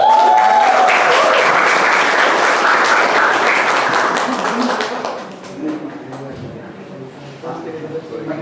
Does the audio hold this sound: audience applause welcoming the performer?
yes